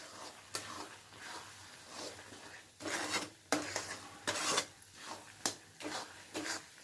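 A thickening coconut and mango mixture for a sweet vadi is stirred in a pan, giving soft, irregular scraping and rubbing strokes that are fairly faint and close, with no talking.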